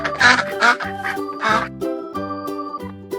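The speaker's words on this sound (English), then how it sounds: "Duck." A farm duck quacks in a few loud, raspy bursts early on, set against a steady tonal musical backing that carries on after the calls.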